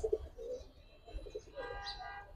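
Giribaz pigeons kept for sale coo softly nearby, a few low throaty rolling calls followed by a fainter, higher chirp near the end, quiet and close.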